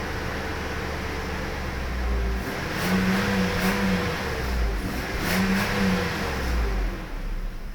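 Mercedes S600 coupe engine idling steadily with a new throttle body, blipped up in a few short revs that swell and settle back to a smooth idle hum, close by and alone.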